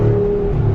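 Loud, close V8 roar of a 2021 Jeep Wrangler Rubicon 392 HEMI accelerating, a steady deep engine drone through a turn with no pause.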